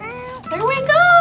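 A cartoon cat meows in the cat video game Cats Cradle: a single drawn-out, rising and wavering meow, fairly loud and close, filling the moment on its own.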